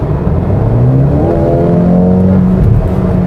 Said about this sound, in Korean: 지금처럼 이제 주행 중에 킥다운을 하면은